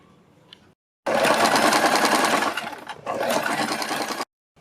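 An electric sewing machine runs a stitch line along a strip on a kurti neckline: two close, loud whirring bursts of rapid stitching separated by a brief pause, with quiet before and after.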